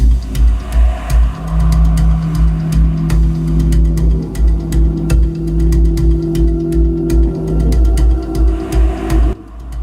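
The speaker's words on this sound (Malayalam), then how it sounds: "കോഴിക്കോട് നാദാപുരത്ത് റോഡിൽ വർണ്ണപ്പുക പടർത്തി യുവാക്കളുടെ അഭ്യാസ വാഹനയാത്രയുടെ ദൃശ്യങ്ങളാണിത്" Several cars stunt-driving along a road in Nadapuram, Kozhikode, with coloured smoke, as part of a wedding celebration; loud, steady engine drone and revving runs throughout with no break.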